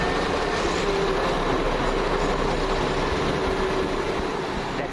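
A London Midland passenger train, a Class 172 unit, runs by at Smethwick Galton Bridge with a steady broad rumble and faint wheel squeal, moderately distant and continuous without any voices.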